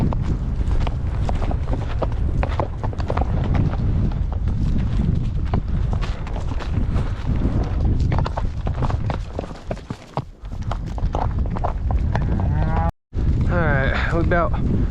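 A herd of cattle driven down a road on a ranch, lowing and mooing repeatedly at mid-distance over a constant clatter of hooves and movement, with a brief dropout near the end.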